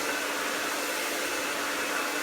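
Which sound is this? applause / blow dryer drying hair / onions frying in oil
blow dryer drying hair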